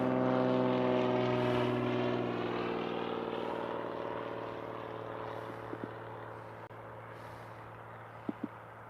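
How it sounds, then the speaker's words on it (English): A propeller plane drones steadily overhead, a loud, sustained engine hum with a slowly falling pitch as it passes, fading gradually with a few faint clicks near the end. "That's a beautiful plane."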